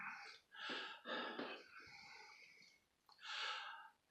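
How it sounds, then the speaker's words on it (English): Several harsh, breathy coughing bursts in quick succession, close by, with a short pause before a final rough cough. "this cough"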